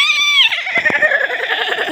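A single sheep bleats in a loud, close, quavering call lasting about two seconds with a wavering, trembling tone.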